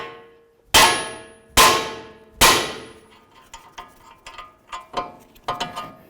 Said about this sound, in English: a couple loving bonks right on the knuckle